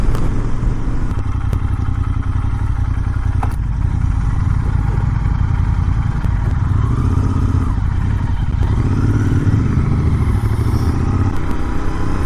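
A Royal Enfield Interceptor 650 motorcycle engine drones steadily while riding, a light, even, close mid-pitched hum with some clatter and no break throughout.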